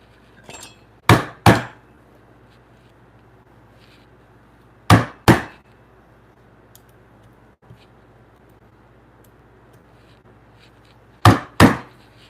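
A freshly sharpened chisel is struck into wood for timber-frame mortises, three pairs of sharp double knocks spaced several seconds apart, loud and close against a quiet background.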